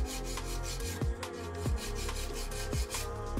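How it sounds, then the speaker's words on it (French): A 120 grit nail file rasping across a fingernail in a manicure, a soft close scratchy rubbing in steady back-and-forth strokes, alone and fairly quiet. "je vais utiliser une lime 120, les nouvelles limes de chez Neyo. D'abord les côtés"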